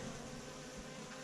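Honeybees humming around an opened hive, a low continuous buzzing drone, quiet and steady without speech.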